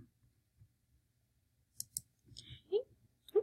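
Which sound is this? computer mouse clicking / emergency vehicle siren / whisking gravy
computer mouse clicking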